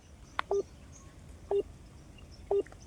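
Three brief telephone keypad tones, each about a second apart, sound clearly against a quiet background.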